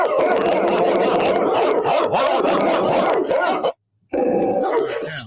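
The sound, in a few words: dogs barking sound effect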